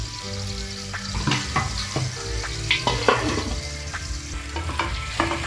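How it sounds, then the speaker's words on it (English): Matumbo (tripe) being stirred as it fries in a pan, a continuous sizzle broken by frequent scraping and tapping spatula strokes, close and fairly loud, with no talking. "Continue stirring for our boga."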